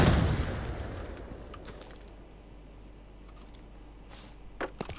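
A grenade explodes in the shooter game Arena Breakout: Infinite with a heavy, booming blast right at the start that fades into a muffled, ringing quiet, followed by a few faint clicks.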